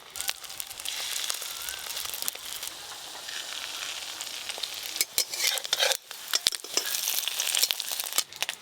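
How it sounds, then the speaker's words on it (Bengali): Fish roe frying in a small amount of oil in a wok, giving a steady close sizzle with crackling and scraping stir strokes that grow busier toward the end, with no voices. "হ্যাঁ, ভাজতে হয়, কম করে তেল দিয়ে মাছের ডিম ভাজবে।"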